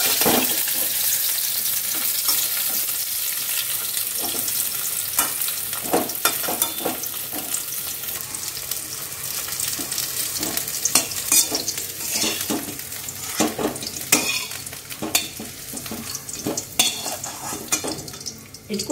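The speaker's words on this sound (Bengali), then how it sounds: "ভাজা হয়ে গেছে, এবার তুলে নেব।" Cauliflower florets sizzle in hot oil while a utensil stirs them, sending irregular scraping and clattering strokes over a continuous close frying hiss that grows busier toward the end; no one speaks.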